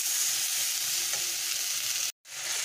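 Ridge gourd and drumstick vegetables for a village-style shrimp curry are frying and being stirred in a pan, making a loud, continuous close sizzle that cuts out for an instant near the end.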